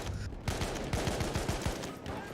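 Rapid automatic gunfire from a Maxim gun converted into a submachine gun in Battlefield: a quick string of close, punchy shots over a steady noisy game background.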